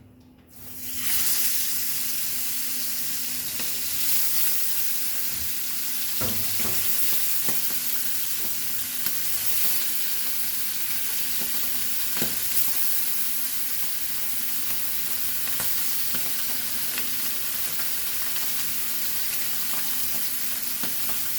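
Sardines (Goan tarle) frying in a small amount of oil in a pan, giving a steady, dense sizzle that holds at an even level throughout, with a few faint clicks and clatters of utensils and no talking.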